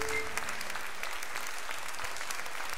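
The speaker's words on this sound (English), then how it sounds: "Oh, it's clapping. I thought it was raining." Applause from an unseen audience backstage in a video game, a soft, continuous patter of clapping that resembles rainfall, moderately distant and fairly quiet throughout.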